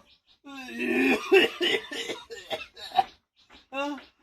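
A voice coughs repeatedly in rough bursts between stretches of speech, fairly close and loud, with harsh throaty hacks.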